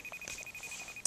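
A FaceTime call ringing out on a second-generation iPod Touch, a steady repeating tone pulsing evenly through the moment, with a brief louder chime at the end.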